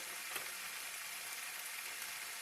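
Soft, steady sizzling of vegetables and pork mince frying in a pan for a Bolognese, an even hiss with no talking.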